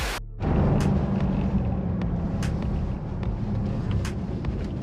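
A Mercedes C63s AMG engine idles steadily while warming up, a continuous low rumble that starts after a brief sharp onset and holds at a fairly constant level throughout.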